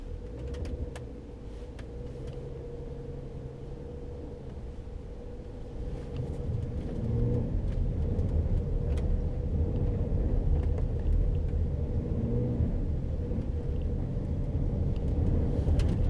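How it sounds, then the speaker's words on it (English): BMW car with traction control switched off, accelerating hard through a snowy turn: a steady low engine drone and road rumble that grows louder partway through and holds there, with no talk. "We're going to accelerate in the turn and see if it's able to maintain composure."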